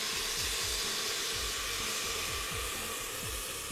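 Steam hisses loudly and steadily as half a cup of water is poured into a hot pan, a broad sizzling rush with faint low bubbling underneath.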